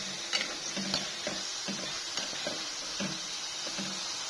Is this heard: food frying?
yes